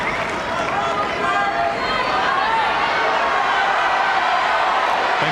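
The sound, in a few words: Wimbledon tennis crowd getting rowdy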